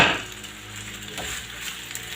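Potatoes fry in a generous amount of oil for a tortilla, a steady close sizzle with a brief louder burst at the start, no voices present.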